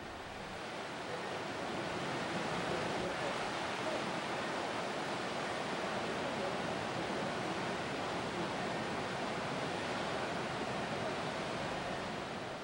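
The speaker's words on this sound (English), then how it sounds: "Almost anyone can recognize the sound of the ocean." Ocean waves wash in a steady, dense hiss of surf, even and moderately soft throughout, with no voices.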